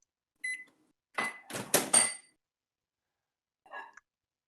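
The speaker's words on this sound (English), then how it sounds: "As much fun as it is to hear microwave noises, uh, it's a little distracting sometimes." A microwave oven heard through a caller's microphone during a live stream, with a few short, separated beeps and clunks of the door and panel, close and fairly loud against silence.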